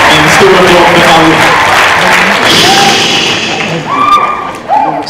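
Audience at a cosplay championship at a Stockholm convention applauds, a loud wash of clapping and crowd noise with thuds, while people talk over it as it thins out toward the end.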